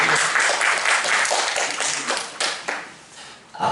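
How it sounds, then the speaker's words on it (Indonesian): Applause and clapping from an audience at a relaxed football discussion session, honoring two football instructors; dense, steady hand claps throughout, fairly loud, with a brief dip near the end before rising again. "Tepuk tangan untuk beliau."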